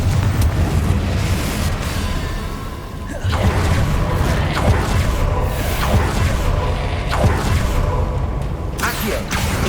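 Confringo blasting curses burst again and again during Hogwarts Legacy combat, loud booming explosions with whooshing swells that strike at irregular intervals over a dense, busy battle din.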